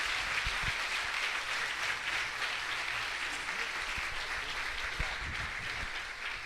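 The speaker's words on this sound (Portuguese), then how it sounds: "vamos aplaudir ao Senhor" A church congregation at an evening service claps steadily for several seconds, a broad even patter of many hands filling the hall, with a few voices faintly underneath.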